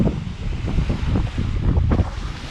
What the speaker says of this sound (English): The natural sound of the ocean is so reviving, but it can also put you in the most peaceful sleep.